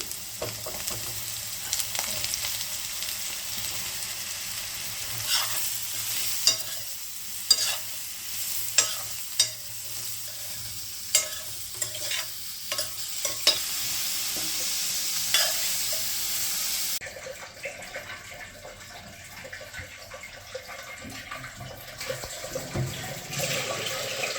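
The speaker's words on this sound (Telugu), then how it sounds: "ఇప్పుడు అదే బౌల్లో మష్రూమ్స్ని కొంచెం ఫ్రై చేసుకోవాలి బిర్యానీ కోసం" Mushrooms frying in a bowl-shaped pan for mushroom biryani, a steady sizzle with repeated sharp scrapes and knocks of stirring up close, then the sizzle shifts and quiets toward the end.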